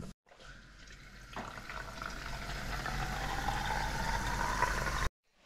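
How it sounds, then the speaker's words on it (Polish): Water pours into the water tank of a Beko RoboSmart robot vacuum indoors, a steady filling splash that builds and brightens over about five seconds before stopping abruptly. "I tutaj nalewamy wody."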